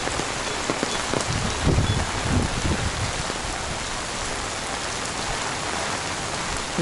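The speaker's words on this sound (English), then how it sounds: "There's still madness in the rain." Rain falls steadily on a street in Danang, Vietnam, a dense, even hiss of drops on wet pavement with a few louder splashes early on, no voices.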